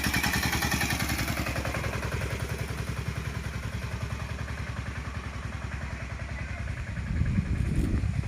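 A 2015 Eicher 485 tractor with a 45 HP engine idles steadily nearby, its rhythmic diesel knocking clattering evenly throughout, with a slight rise in rumble toward the end and no talk.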